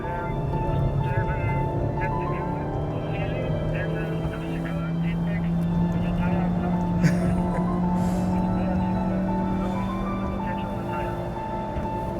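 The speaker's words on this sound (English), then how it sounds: "Oh, that's the rev limiter, okay." Car engine bouncing off the rev limiter under full throttle while chasing a Golf GTI on track, a sustained buzzing engine tone with steady harmonics, heard from inside the car with a voice over it.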